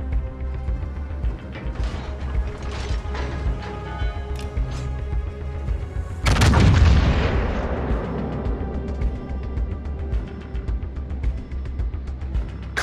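Battlefield gunfire in the video game Vermont: Devastator, steady rumbling fire and distant booms building to one heavy, close blast midway that slowly decays into continued shooting.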